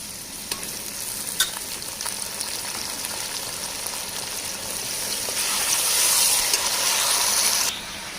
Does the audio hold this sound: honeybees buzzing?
no